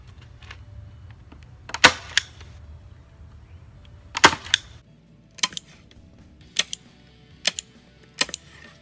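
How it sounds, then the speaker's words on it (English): A staple gun fires staples through backing into a wooden farmhouse sign, sounding as several sharp, isolated snaps spread irregularly over a few seconds against a quiet background. "I'm just going to take this piece and center it and staple it back on"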